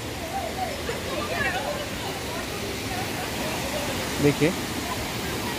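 Waterfalls cascading behind a Shiva temple, a steady broadband rush of falling water filling the background while someone speaks over it throughout.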